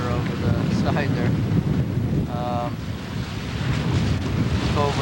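Water rushes and splashes along the hull of a sailboat crossing Lake Huron under sail, a steady close wash mixed with strong wind buffeting the microphone, with brief bits of a voice talking.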